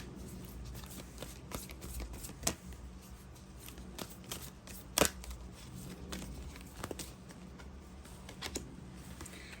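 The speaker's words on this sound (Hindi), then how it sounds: "चलिए एनर्जी से एक कार्ड निकालते हैं" Tarot cards handled and drawn from a deck, soft shuffling and light flicking taps with a few sharper clicks, faint and close over a low steady background.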